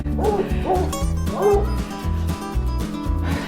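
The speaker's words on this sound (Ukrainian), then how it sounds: "Песики повибігали." Several dogs bark in a lively backyard garden, loud, close yips and woofs coming in quick repeated bursts with a whimpering edge, overlapping one another.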